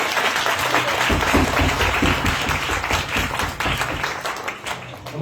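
A church congregation at a live Christmas service claps loudly for several seconds in a dense, sustained burst of applause.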